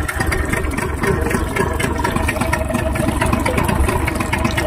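A Yamaha 15 hp outboard motor runs hot because its cooling water is not coming out. The engine gives off a loud, steady drone with a rough, rattling texture and no pauses.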